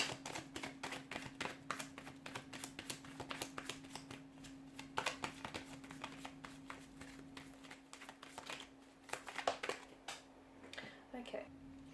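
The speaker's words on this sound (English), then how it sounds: "let's go ahead and give the cards a shuffle." A deck of tarot cards is shuffled by hand, a rapid run of crisp riffling snaps and flicks that come in bursts, quiet and close, over a faint steady hum.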